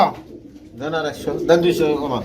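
A pair of Romanian moon potter pigeons for sale coo close by in soft, throaty, repeated phrases, with voices nearby.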